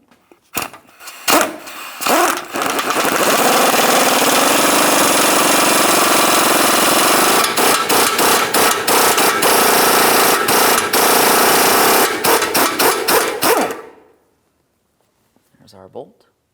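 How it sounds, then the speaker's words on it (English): Loud power tool, likely an impact wrench, hammers steadily for about eleven seconds on an 18mm front lower control arm bolt of a 2007-2014 GMC Sierra 2500 HD, with short bursts before and after, then stops. "We'll be using an 18mm to remove this bolt."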